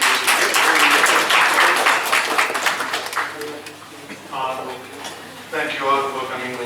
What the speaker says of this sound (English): So big round of applause for Naveen.